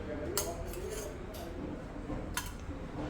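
Oil spooned onto a tawa on a lit stove for frying yam slices: a few sharp metallic clinks and scrapes of a spoon against the pan over a steady low kitchen hum.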